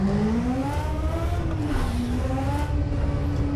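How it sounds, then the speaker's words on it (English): Mazda 787B Group C race car engine in the rFactor 2 simulator, a steady, loud, high-pitched rotary wail holding a sustained note with a slight pitch dip and rise, heard alone without talk. "You can hear that very, very famous engine note."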